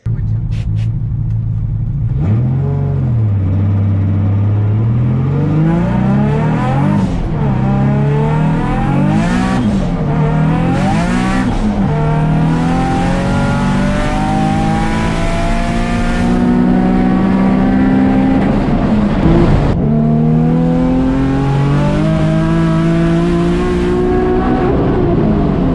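A car on a 100-shot nitrous setup accelerates and revs on the street, its loud engine note sweeping up and down through repeated pulls, steady and close throughout with no talk.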